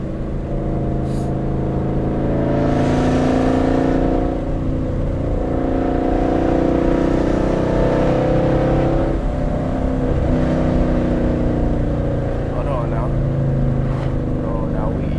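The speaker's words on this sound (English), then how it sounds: "That thing popping, man. Do a downshift on him." Ford Mustang GT engine heard from inside the car on a drive, droning and revving through a downshift as exhaust pops crackle, with people talking over the steady engine noise.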